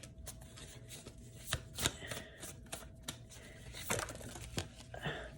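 Tarot cards are shuffled by hand in a quiet room, giving a string of soft papery riffles and sharp slapping flicks at an irregular pace, close and faint.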